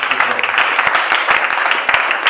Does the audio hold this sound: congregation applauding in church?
yes